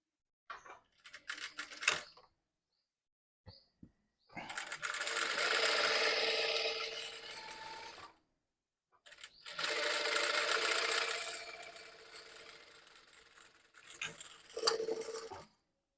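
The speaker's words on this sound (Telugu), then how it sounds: "సో ఈ 2 ఇట్లా పెట్టుకుని ఒకసారి స్టిచ్ చేస్తున్నాను." A sewing machine stitches blouse cloth and lining together in two long, loud bursts of rapid mechanical whirring, separated by short pauses and light handling clicks.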